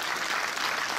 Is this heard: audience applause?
yes